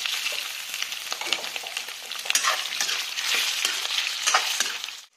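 Boiled pork hits a pan of fried onions and sizzles loudly and continuously, with scraping stir strokes across the pan throughout.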